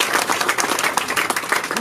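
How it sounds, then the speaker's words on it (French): Guests at a Congolese traditional wedding (dot) clap for the groom, a short burst of steady crowd applause with voices mixed in. "Est-ce qu'on peut d'abord l'applaudir?"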